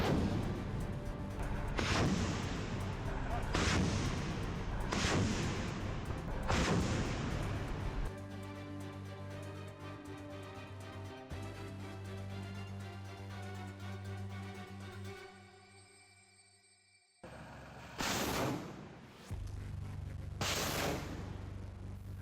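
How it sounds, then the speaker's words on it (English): Multiple rocket launcher systems firing in combat, a series of heavy booming launches spaced a second or two apart, then a sustained rumbling roar and two more sharp blasts near the end. "These positions were then targeted with heavy fire from multiple rocket launcher systems."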